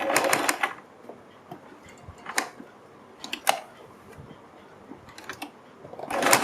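Sewing machine stitching the neck of a kurti, short bursts of rapid mechanical clatter separated by quiet pauses, with small clicks of fabric handling in between.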